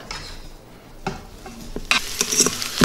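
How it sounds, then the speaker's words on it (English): Bacon frying in a pressure cooker pot, quiet crackle and sizzle with a few sharp scraping stirs that grow louder toward the end, close and brief. "we're going to cook this until the bacon is crispy but not fall apart"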